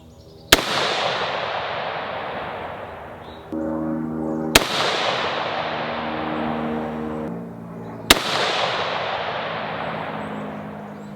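Three loud, sharp rifle shots from a Diamondback DB10 AR-10 in 6.5 Creedmoor during barrel break-in, spaced several seconds apart, each followed by a long ringing decay against steady background noise.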